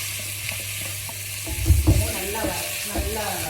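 Kozhukattai filling sautéed in a pan: a steady sizzle with scraping stirs and soft clunks against the pan, close and moderately loud, while a voice speaks briefly over it.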